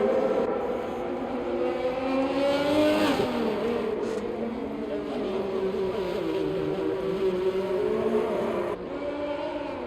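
Race cars lap the tight Monaco street circuit in a racing video game, engines screaming in loud, continuous high revs with pitch sweeps as they brake and accelerate, several cars layered together.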